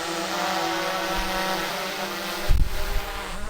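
A DJI Mavic 2 Pro drone's motors spin up and hold a steady, close high-pitched whirring buzz, with a brief low thump of handling partway through.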